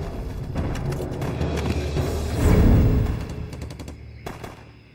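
Machine gun fire in a battle scene of a Chinese special forces war drama rattles in loud, continuous bursts, swelling into a heavier roar midway before tapering off.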